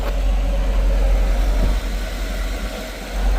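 A vehicle engine idles steadily at close range, a low rumbling drone with slight fluctuations and no talking.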